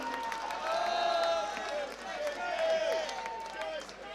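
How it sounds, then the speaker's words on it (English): A rally crowd at a UK freedom march claps and cheers for Tracy Blackwell, a steady wash of applause with voices chanting her name rising and falling over it for several seconds. "give Tracy a huge round of applause"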